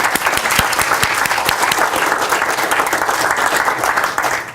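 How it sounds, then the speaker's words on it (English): A full room applauds the day's speakers at a London Ansible meetup, loud dense clapping sustained throughout and fading slightly at the end. "Can I just get a round of applause for all the speakers that we've had today,"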